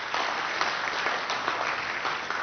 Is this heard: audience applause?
yes